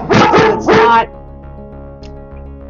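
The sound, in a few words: dog barking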